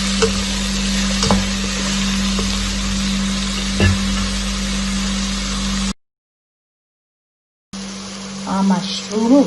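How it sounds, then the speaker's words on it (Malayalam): Mushrooms, garlic and onion fry in butter with a loud, even sizzle for about six seconds, then silence, then quieter sizzling returns as a person talks. "ആ മഷ്റൂമും ഗാർലിക്കും ഒണിയനും എല്ലാം ഈ ബട്ടറിൽ കിടന്ന് നല്ല ഫ്രൈ ആവുമ്പോൾ ഒരു നല്ലൊരു സ്മെല്ല് വരുന്നുണ്ട്."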